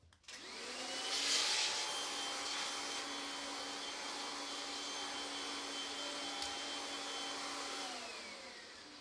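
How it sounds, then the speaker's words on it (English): A vacuum cleaner runs steadily and close inside a disassembled PS3 console, with a loud continuous whine and airflow hiss that starts abruptly and holds for several seconds. "Now, I am going to vacuum that again real quick."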